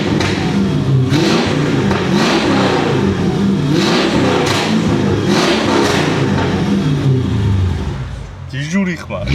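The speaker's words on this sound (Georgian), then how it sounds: "მოკლედ მოდი დავქოქოთ ეხლა ჩვენ ეს მანქანა, იმიტომ რომ ვეღარ ვითმენ, მინდათ რომ ხმა მოგასმენინოთ" A Mercedes E500 W211 V8 engine rumbles deep and loud up close, revving repeatedly in rising and falling surges before settling toward idle, while someone talks over it.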